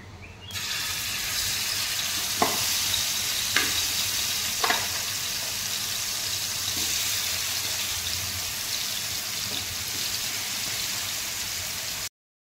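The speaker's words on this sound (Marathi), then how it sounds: "तेल गरम झाल्यानंतर जे मी मॅरिनेट करून ठेवलेलं आहे पनीर, तर मी ते थोडंसं टाकून घेतलं सगळीकडे।" Marinated paneer sizzles steadily in hot oil in a pan, a dense continuous frying hiss running throughout with a few sharp clicks of a spoon or spatula early on, close and fairly loud, no voices.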